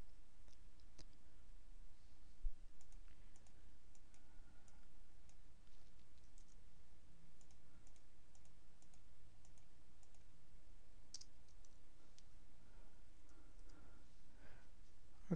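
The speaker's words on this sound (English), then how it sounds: "And you have to click a couple of times to get it in there." Faint, sparse mouse clicks sound while captions are edited in MovieCaptioner software, a few isolated taps over a quiet background with no talking.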